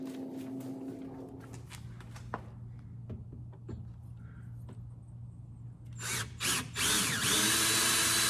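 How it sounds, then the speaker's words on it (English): Power drill boring a 5/16 inch hole in the license plate area of a 2020 Ford F-250 Tremor during an airbag install, a steady whine under handling clatter that swells into a loud, strained grind at the end. "we've got a 5/16 inch hole drilled"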